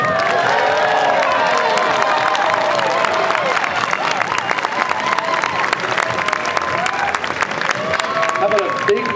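A large audience at a Boston Tuba Christmas concert applauds steadily throughout, with dense sustained clapping and some cheering and whistles, loud and close.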